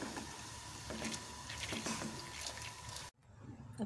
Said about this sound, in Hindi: अब पानी बॉयल हो रहा है